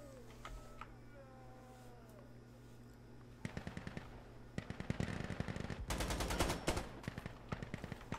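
Bursts of MP7 submachine gun fire in the shooter game Insurgency Sandstorm, first as a short volley of sharp shots, then two longer rapid strings from a middle distance over a steady background hum, with faint game sounds before them.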